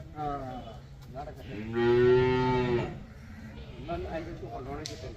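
A single long, loud lowing moo from a large water buffalo, lasting about a second, with people talking quietly before and after.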